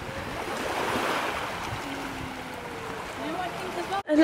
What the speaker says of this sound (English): The sound of the ocean, like I just love it.